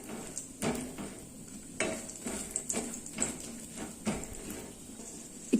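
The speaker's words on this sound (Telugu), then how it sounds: "నేను ఇక్కడ 2 టేబుల్ స్పూన్ నెయ్యి తీసుకున్నాను. దోరగా వేయించుకోవాలి." Cashews and almonds fry in ghee in a pan with a faint sizzle beneath repeated metal spoon clinks and scrapes at an irregular pace, quiet and close with no talk.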